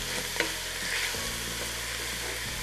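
Meat with onion and carrot sizzles in a pot for a soup while a utensil stirs and scrapes, producing steady crackling frying with a few sharp knocks, close and moderately loud.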